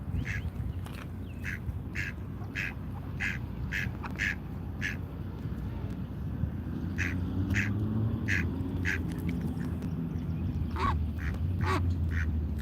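Ducks quack in repeated short bursts at a Washington DC street protest, calls coming near and fairly loud in irregular clusters over a steady crowd and traffic rumble.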